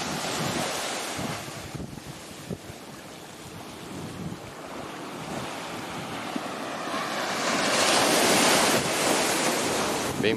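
Gentle waves break at Zimbros beach in Bombinhas, Santa Catarina, a calm fishermen's beach, as a continuous wash of surf and wind that swells louder toward the end.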